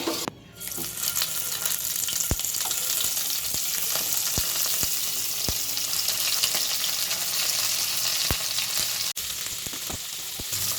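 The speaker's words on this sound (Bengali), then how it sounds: "দিচ্ছি সর্ষের তেল পুরো রান্নাটাই আমি সর্ষের তেলে করব এবার মাছগুলো একটু দিয়ে দিচ্ছি" Prawns frying in mustard oil in a wok give a steady, dense sizzle close by, broken by a few sharp clicks and taps from the pan, with no one talking.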